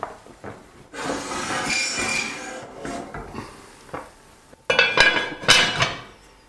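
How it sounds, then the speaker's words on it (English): Metal cooking pot of boiling ribs shifted onto the smallest stove burner, with a series of clanks, scrapes and sharp metallic knocks against the stovetop, close and uneven. "I'm moving the pot to the smallest burner on the lowest heat"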